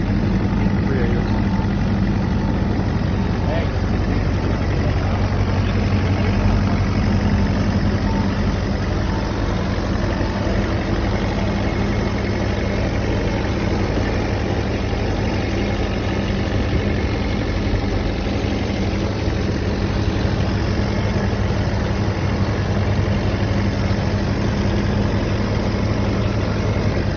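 A new 2016 Vermeer D9x13 S3 directional drill's engine idles, a loud, steady low diesel rumble with constant vibration that continues unchanged throughout.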